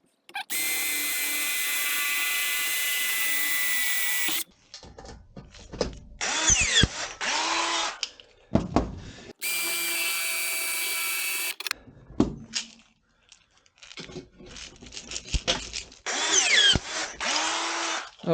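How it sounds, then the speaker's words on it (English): A power drill bores into sheet metal while a model lighthouse is being built, with two long, steady whining runs separated by bursts of clattering, scraping handling noise and short grinding spurts. "Okay, so now I'm going to drill."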